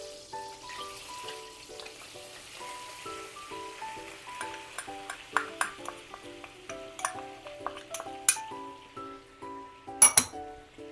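Flour is stirred into melted butter in a pan, with a soft sizzle under repeated clinks and scrapes of a utensil against the metal, irregular and close, over a quiet background of music.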